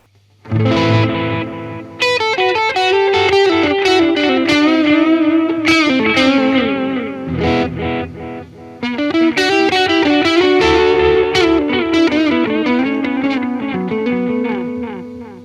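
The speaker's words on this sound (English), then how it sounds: "this is a model of the classic Memory Man Bucket Brigade delay pedal that came out in the late 70s, early 80s" An electric guitar plays through a UAD Analog DMM plugin, a model of the late-1970s Memory Man bucket brigade delay pedal. Loud, sustained melodic phrases are washed in warm, mellow, slightly dulled repeats that blur the notes together.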